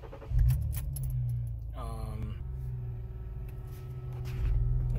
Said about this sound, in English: Now we'll start the car.